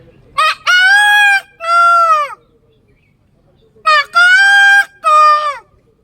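A human voice imitates a rooster crowing, two loud, drawn-out cock-a-doodle-doo calls in quick succession separated by a brief pause, each with rising and falling pitch, close and alone.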